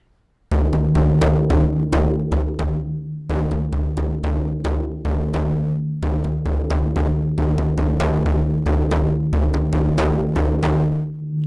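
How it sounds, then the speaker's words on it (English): A Sri Lankan Rabana frame drum plays a Raban Padaya rhythmic combination, dense rapid strikes in repeating phrases with brief pauses between sections, loud and close with no talking. "when we produce the Raban Padaya or the combination, the rhythmic combination on this Rabana, it sounds like this"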